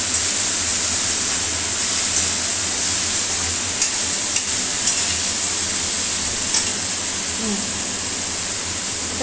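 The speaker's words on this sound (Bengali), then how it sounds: "এটা কপিটা ভাজা হচ্ছে এই সাইডে।" Cauliflower florets fry in a pan with ground coriander and cumin, giving a loud, continuous hiss of sizzling oil with a few faint scrapes of stirring, close and without any voices.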